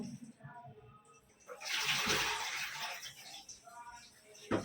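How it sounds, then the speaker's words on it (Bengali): Fish is rinsed under running water in a home kitchen, a splashing gush that rises loud midway and then trails off, with softer handling sounds before and a sharp clatter at the end. "এবার মাছ ধুয়ে নেব"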